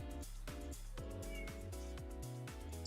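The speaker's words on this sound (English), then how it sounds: "You're a good kitty cat." A pet cat meows in a short burst of several quick, close meows, with a steady hum underneath.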